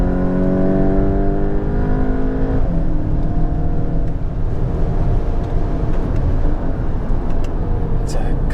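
A Volkswagen Golf GTI engine pulls steadily under load while driving, its harmonic drone rising then shifting pitch as it gears up, loud and continuous throughout with a voice talking over it.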